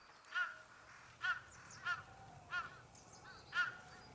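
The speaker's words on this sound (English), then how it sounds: "A crow. She has a lot to say." A crow in the Ghost of Yotei video game gives five harsh, evenly spaced caws at a middle distance. The calls are faint over a quiet outdoor background.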